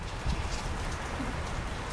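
Steady rain falls outdoors during a DIY turn-signal wiring job on a Husqvarna Vitpilen/Svartpilen 401 motorcycle, a dense, even hiss of drops that lasts the whole moment without any voices.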